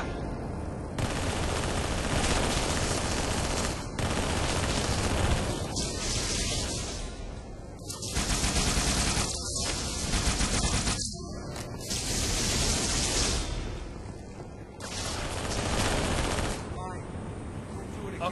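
Dense, loud gunfire from the video game Halo 3, with rapid bursts and sustained automatic fire surging and dropping over many seconds while voices shout over the battle.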